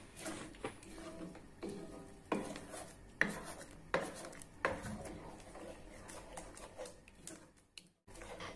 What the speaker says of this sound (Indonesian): Jangan lupa mengaduknya sampai ke dasar wajan supaya tidak ada adonan yang menempel.